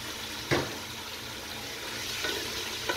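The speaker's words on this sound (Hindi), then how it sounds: "यहाँ पर मैं चिकन डाल दूँगी।" Chicken frying in oil with garlic already in the pan, a steady sizzle running throughout with a couple of brief louder bursts as pieces hit the hot oil; no talking.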